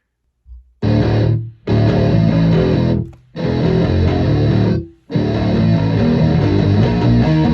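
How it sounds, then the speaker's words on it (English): Heavy, distorted electric guitars crash in as loud, thick sustained chords in a song, playing in bursts separated by brief gaps. "the guitars come in very heavy here"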